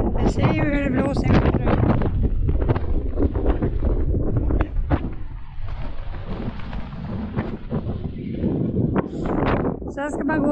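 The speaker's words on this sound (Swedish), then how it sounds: "Ni ser ju hur det blåser." Strong wind buffets the microphone on an exposed mountain slope, a steady roaring rush throughout with someone talking over it.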